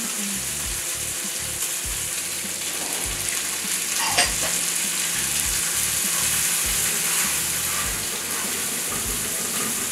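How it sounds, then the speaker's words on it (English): Bacon and onions fry together in a pan with a loud, continuous crackling sizzle that holds steady throughout, with one brief sharper clink near the middle and no voices. "Cooking bacon and onions together."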